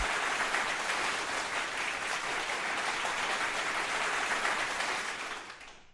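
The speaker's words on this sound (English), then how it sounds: "A round of applause for sir and ma'am." An audience applauds at an awards ceremony in Bhubaneswar, a dense and steady roar of clapping that holds for several seconds, then fades at the end.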